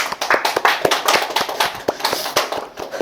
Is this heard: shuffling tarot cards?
no